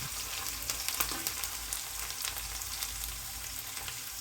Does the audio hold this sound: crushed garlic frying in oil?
yes